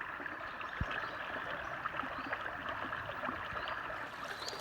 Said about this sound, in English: It's a really nice little creek.